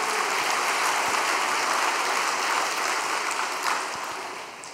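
An audience at a special all-night devotional gathering gives sustained applause, a dense, wash-like roar of clapping that holds steady, then gradually thins and fades near the end.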